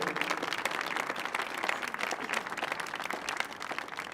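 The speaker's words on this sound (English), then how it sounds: "if you'd give him a big round of applause" Steady audience applause fills the room at a country music concert, dense clapping at a constant level throughout, with no voices over it.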